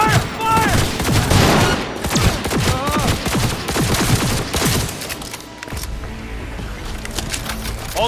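Rapid automatic gunfire in a futuristic shooter game, dense bursts of loud shots layered with a distorted voice for the first few seconds, then thinning to scattered distant pops.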